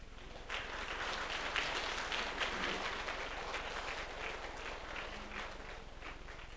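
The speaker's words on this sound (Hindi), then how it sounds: "खड़े होकर बहुत जोरदार तालियां बजाएं" A standing audience at a Raj Yoga welcome ceremony in Nawrangpur claps loudly and continuously, a dense, even burst of applause filling the whole stretch.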